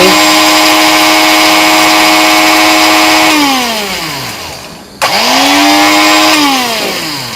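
A small electric coffee grinder whirs loudly as it grinds coffee beans, its motor winding down after about three seconds, restarting briefly and then spinning down once more. No voices.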